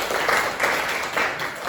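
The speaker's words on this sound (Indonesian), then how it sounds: "beri aplaus dulu" Students in a classroom break into a full burst of applause, dense overlapping clapping that swells and fades slightly over a couple of seconds.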